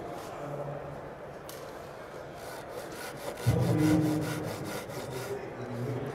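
A saw or knife rasps back and forth cutting a small notch in wood, with a rope rigging setup nearby, a steady scraping rhythm up close that gets louder partway through, with faint voices in the background.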